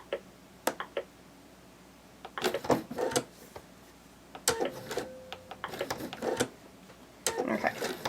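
Short bursts of a sewing machine running on bunny plush fabric, rapid needle chatter starting and stopping between sharp clicks and handling knocks, close by.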